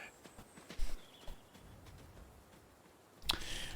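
Horse hooves clip-clopping at a walk in the video game Adios, a few soft, fairly close hoof steps in a quiet scene with faint ambient noise.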